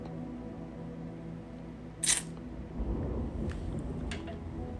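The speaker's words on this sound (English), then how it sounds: "Y'all hear the thunder?" Distant thunder rolls in as a low, faint rumble that swells and lingers, preceded by a brief sharp click, with no voices over it.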